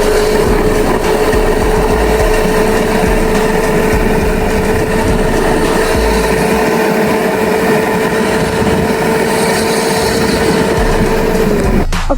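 A Razor MX350 kids electric dirt bike climbs a hill outdoors, its motor giving a steady, loud, droning whine with a constant pitch for the whole ride, ending in a brief clunk.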